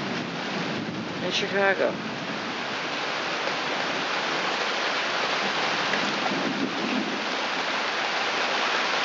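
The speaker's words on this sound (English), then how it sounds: "In the pouring rain on my deck" Heavy rain pours steadily onto a backyard deck in Chicago, a dense continuous hiss that runs throughout, with a voice speaking briefly and a short chirping sound near the start.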